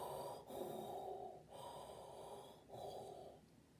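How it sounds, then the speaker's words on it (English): A man breathes heavily and loudly into a close microphone, with three long, rough, wheezing breaths separated by short pauses and no talking. "You seem to be breathing hard."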